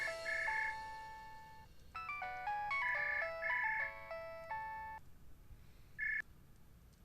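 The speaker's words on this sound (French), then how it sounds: "Peux-tu voir qui appelle, Madhvi?" A telephone plays an electronic melodic ringtone, a quick sequence of bright synthesized tones in a tuneful pattern that pauses and then resumes briefly, fairly clear and close, with no voices.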